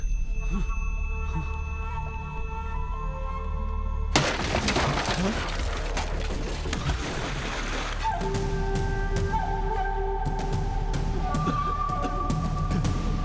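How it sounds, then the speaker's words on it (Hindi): A windmill pole snaps and crashes down with a sudden loud breaking burst partway through, followed by clattering debris over a constant background rumble, with tonal music-like lines before and after. "वो विंड मिल का खंभा टूट गया"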